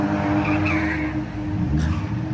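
Loud modified cars in Japan, including a wide-body car with Origin Type 2 fenders, roar steadily with a rough, rumbling engine drone and faint tire squeal, staying close and loud throughout with no talking.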